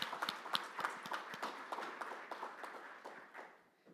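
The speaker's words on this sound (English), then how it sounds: "I think we should clap for that." Conference audience applauding, a quiet, somewhat distant patter of many hands clapping steadily before tapering off toward the end.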